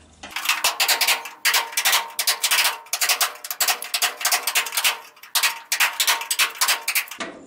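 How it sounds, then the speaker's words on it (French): A flat chisel is hammered against a leftover spot weld on the body of a Citroën Traction 11B, giving a steady run of sharp metallic blows that continues for several seconds. "Je prends un burin plat."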